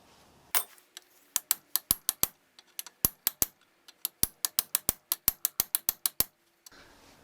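A ratchet socket wrench fitted with a 7/16 socket clicks around a bolt on a Cub Cadet drive shaft, sharp close ratcheting ticks coming in uneven runs with brief pauses between strokes, no talking.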